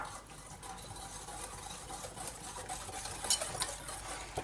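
Egg and sugar are beaten by hand in a bowl for chocolate chip muffin batter, a quick steady scraping and tapping whisk rhythm with no talking.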